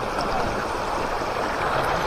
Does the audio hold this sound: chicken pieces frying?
no